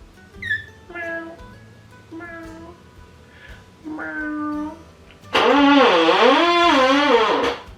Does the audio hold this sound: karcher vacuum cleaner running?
no